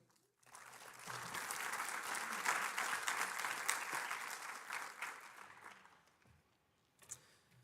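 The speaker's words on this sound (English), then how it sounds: "Please join me in a round of applause for Ewan Reid." An auditorium audience at the International Astronautical Congress breaks into applause for a speaker: full, sustained clapping starts after a brief quiet, holds steady for several seconds, then fades out, followed by a single faint knock.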